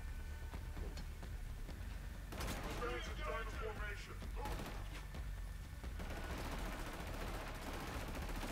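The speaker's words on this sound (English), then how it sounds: "Who the hell was shooting at me?" Automatic and burst gunfire from the PS4 shooter Killzone Shadow Fall rattles on continuously over a dense backdrop of game noise, with a louder cluster of rapid shots in the middle and steady combat ambience throughout.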